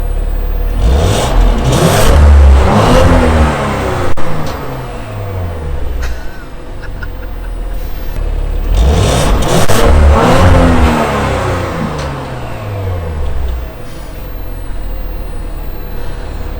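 A 2018 Audi RS5 in dynamic mode with the exhaust opened up, revving loudly in two long rising-and-falling surges, close and dominant with no talk.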